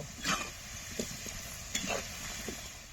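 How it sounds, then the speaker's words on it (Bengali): Potatoes fry in a pan with a soft continuous sizzle, broken by a few light stirring scrapes and clinks, close and fairly quiet with no voices. "এবার আলুগুলো ভালো করে ভেজে নেব"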